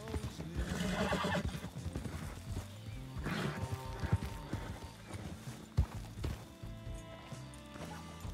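A trained horse's hooves clip-clop under a thick, busy mix of sound, with a neigh or whinny rising among the steps and a sharp knock near the end. A faint voice comes through briefly.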